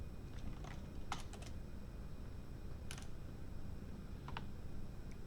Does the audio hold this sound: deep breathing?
no